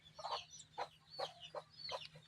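Newly hatched native chicks peep and cluck in a quick run of about six short, bright calls, close by over a faint steady low hum, with no voices.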